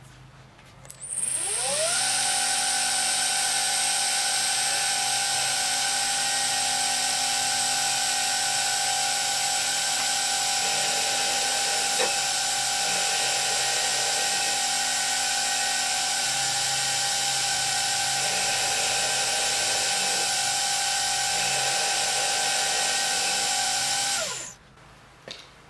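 A milling machine cuts a shallow cross slot, only a millimetre deep, into a metal part for a pull gear speed reducer. The cutter spins up into a steady high-pitched whine and holds it for about twenty seconds before winding down, with no talking.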